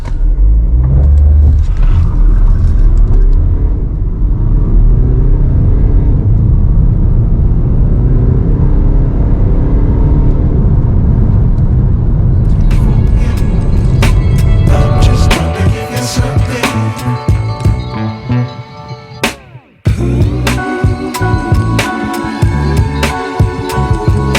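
A BMW X1 18d diesel in Sport mode accelerates at full throttle from a standstill, giving a loud, steady engine drone with rising tone and gear shifts. Later the engine note thins while sharp clicks and rattles sit above it.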